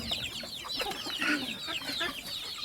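Native country chickens cluck and chatter continuously on a poultry farm, a busy flock heard close with overlapping high calls and no gaps.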